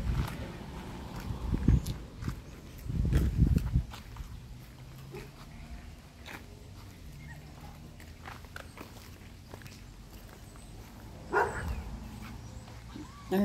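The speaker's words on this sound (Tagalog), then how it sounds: "tinatahulan na kami ng aso" A dog barks at passers-by on a neighbourhood walk. There are a few bursts of barking at a moderate distance, with quieter stretches of footsteps and outdoor background between them.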